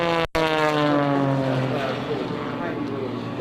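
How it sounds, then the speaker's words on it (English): Aerobatic airplane tumbling nose over tail at show center during a 2003 Rhode Island Air National Guard open house air show, a sustained droning propeller engine roar with a shifting pitch, briefly cut by a short dropout near the start. "let's tumble the airplane nose over tail right at show center"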